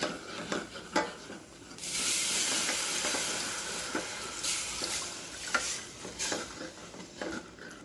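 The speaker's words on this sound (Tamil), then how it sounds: "கட்டி வராமல் ஃபுல்லாக கிண்டி விட்டுருவோம்." White sauce with milk being stirred in a pan over high flame: a spoon scrapes and taps the pan while a broad hiss of steam and bubbling swells, close and steady.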